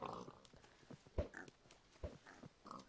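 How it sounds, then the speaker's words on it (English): Pigs in a Minecraft build battle on a Hypixel server, heard as faint, short grunting oinks scattered over a few seconds along with soft clicks and game noises. "That dude's got six pigs."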